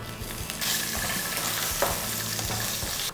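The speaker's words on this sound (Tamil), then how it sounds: "கொஞ்சம் மசாலா எல்லாத்தையும் வறுத்துப்போம்." Masala spices fry in oil with ginger and garlic for a vegetarian kulambu, making a loud, continuous, close-up sizzle that runs unbroken on its own.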